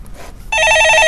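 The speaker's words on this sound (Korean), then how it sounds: "전화 받아보겠습니다" A telephone rings loudly and close with a bright electronic trill, coming in abruptly about halfway through after a short quiet stretch and continuing to the end during a call-in stock advice broadcast.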